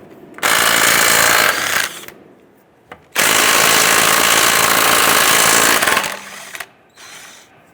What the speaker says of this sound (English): Using our 21mm socket, we're going to go ahead and loosen and remove our lug nuts.